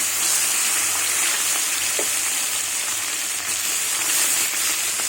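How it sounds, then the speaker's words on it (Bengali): Koi fish frying in hot mustard oil make a dense, steady sizzle and crackle, loud and close, running evenly throughout with no speech. "তেল গরম হয়ে গেছে এবার মাছগুলো ভেজে নেব"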